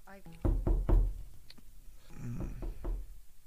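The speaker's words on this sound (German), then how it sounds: "Ich glaube, hier hat jemand geklopft." Knocking on a door plays from a video on screen: three firm, close knocks in quick succession, followed by quieter muffled thumps and faint background voices.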